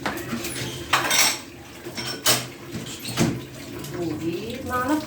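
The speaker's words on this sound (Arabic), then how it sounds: "ونجيب معلقه." A metal spoon clinks against a plate in a home kitchen while milk is boiled for a dessert, giving several sharp separate strikes over faint background noise, with a voice talking softly in places.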